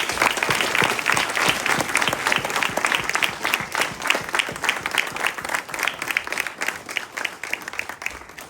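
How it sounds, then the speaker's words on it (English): Sustained applause from a large crowd at the Viksit Bharat Run 2025 in Copenhagen, loud and steady throughout with dense clapping and no speech. "I would request you to greet him with a huge applause for his cooperation."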